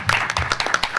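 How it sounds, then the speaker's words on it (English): An audience at a Los Angeles Comic Con 2022 panel claps in a short, close burst of applause with distinct individual hand claps. "Yes, applause."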